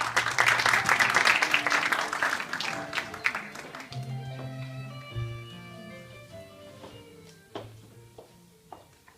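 A school audience at a Çanakkale commemoration poetry recital claps loudly for about four seconds as a student is welcomed to the stage. The applause then thins and fades out, and soft tonal music continues alone.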